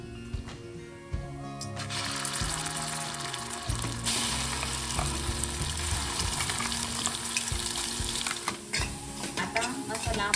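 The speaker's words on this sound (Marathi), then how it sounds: "आता मसाला आपण तेल सुटेपर्यंत परतून घ्यायचा आहे." Ground masala with cumin fries in oil for a soya chunk curry, sizzling steadily while a utensil stirs and scrapes the pan with close, irregular clatter.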